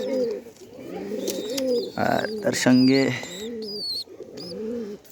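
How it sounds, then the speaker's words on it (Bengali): Captured pigeons coo in soft, repeated rolling calls close by, with a person talking briefly in between and some higher chirps overhead. "কবুতর ধরছি কয়েকটা।"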